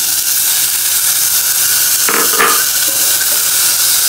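Minced meat dropped into a pan of lightly fried onion sizzles with a steady, close hiss, and a brief burst of louder crackling comes midway before the hiss settles again; no one talks.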